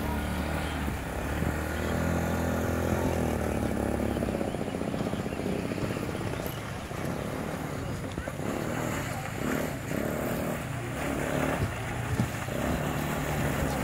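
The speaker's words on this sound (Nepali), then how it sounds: "कृष्ण सोल्टीको निकै दुमदार बाइक घटाइ अब यहाँबाट चाहिँ फिनिसिङ लाइनमा आउनु भएको छ" A motorcycle races toward the finish line of a bike race, its engine roaring loudly and continuously for the whole stretch, with a commentator talking over it.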